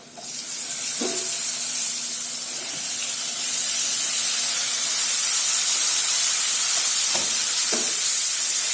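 Tomatoes hit a hot pan of cabbage sabzi and set off a loud, steady, close sizzle and hiss that fills the whole stretch. A few faint clinks of a spoon against the pan sound underneath.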